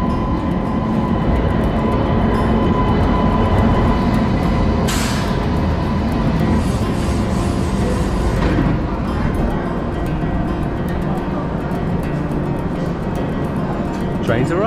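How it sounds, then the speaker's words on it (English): A Mumbai-to-Delhi sleeper train pulls into a station in Mumbai, India, a loud continuous rolling rumble with a brief hiss of brakes midway, while voices murmur underneath. "Train's arrived."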